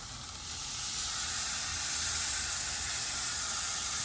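Italian dressing BBQ ribs sizzle on a charcoal grill, a loud, steady hissing fry that swells in after a brief quieter start and holds close up, with no talk.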